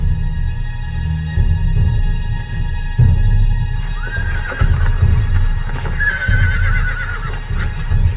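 Desert horses neigh and whinny twice, long rising-and-falling calls over steady low rumble and some hoof clatter, fairly close.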